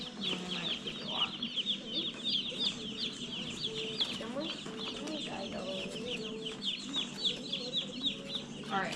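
Young meat chicks in a box on a small farm peep and cluck continuously in a busy chorus, with people talking quietly in the background.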